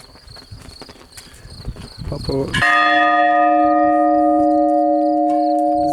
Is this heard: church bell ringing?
yes